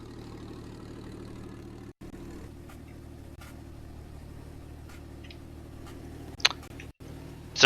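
A truck engine idles steadily in the background, a low, fairly faint rumble with occasional light ticks and clicks over it.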